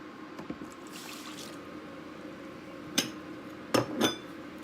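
Sugar and orange juice go into a cooking pot for cranberry sauce: a faint, quiet pour and trickle with a few sharp clinks near the end, and no speech.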